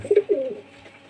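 A restless male pigeon held in the hand gives a couple of brief, close, throaty coos that fade quickly into quiet.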